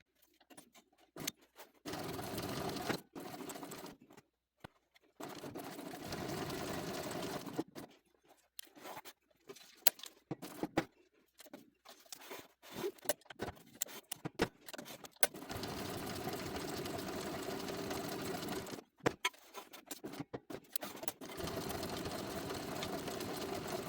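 Sewing machine stitching a strong tote bag, running in long steady whirring bursts broken by frequent stops and short starts, close and alone with no talk.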